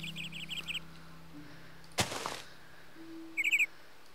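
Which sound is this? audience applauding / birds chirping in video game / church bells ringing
birds chirping in video game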